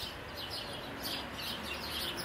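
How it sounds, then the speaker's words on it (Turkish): Small birds chirping outdoors in the open air, soft and fairly distant, a light continuous twittering spread through the whole stretch over a steady background hiss. "kuş sesleri geldi burada"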